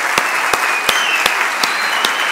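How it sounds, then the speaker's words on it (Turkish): Conference audience applauding for a record-breaking freediver, a loud sustained patter of many hands with a few sharper claps standing out in a regular rhythm. "Şahika Ercümen, alkışlarınızla bizlerle birlikte"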